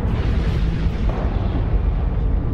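A solar explosion sound effect: a loud, continuous, roaring rumble with deep booming low end and broad hiss above, sustained without pause for about two and a half seconds with no voices.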